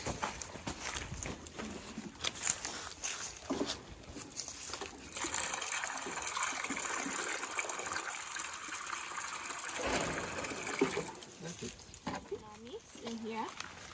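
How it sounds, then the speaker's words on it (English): Water gushes and splashes in bursts as it is poured to top up a container at a vervet monkey sanctuary, with talking over much of it and some footsteps nearby. "you can top up their water a little bit."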